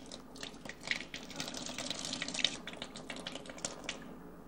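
Water splashes and patters steadily from a small fountain fed by raised reservoirs, a faint, close trickle with irregular drips throughout.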